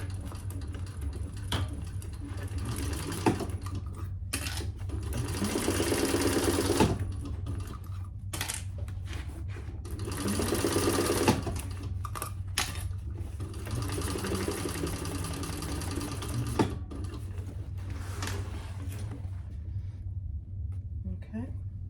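A sewing machine runs a 1/8-inch closure seam on a purple crossbody bag, whirring in several uneven bursts separated by short pauses, with occasional low voices in between.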